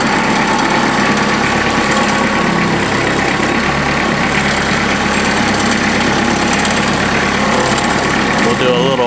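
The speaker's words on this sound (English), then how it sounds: "We'll do a little box blading action here while we idle around." A tractor engine idles steadily at close range while box blading, its dense, continuous rumble with a knocking vibration holding constant throughout with no pauses.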